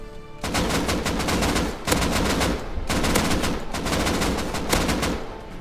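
AK rifle gunfire in the survival game Rust: sustained loud automatic bursts of rapid shots, close up, with brief pauses between strings of fire.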